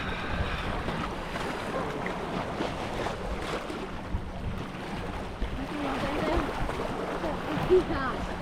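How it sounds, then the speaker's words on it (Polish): Big sea waves surge and crash near rocks, a loud continuous roar of surf and wind close by, with people talking over it. "Czekaj, bo mega fale są. Mega wela przyszła."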